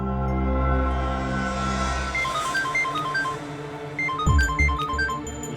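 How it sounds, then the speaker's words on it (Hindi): A phone ringtone sounds in a crime drama scene, a repeating electronic melodic tune in short bursts, fairly loud and close, with a low hum beneath and no talking. "उसी का फोन है।"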